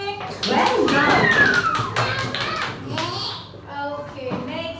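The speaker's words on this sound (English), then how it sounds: "Clap for Akshay." Young schoolchildren in a classroom clap together for a classmate, a burst of loose, uneven hand claps mixed with children's chatter and a teacher's voice.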